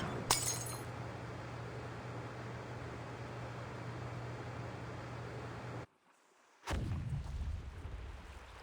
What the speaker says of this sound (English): Sounds like some kind of explosion near the clinic.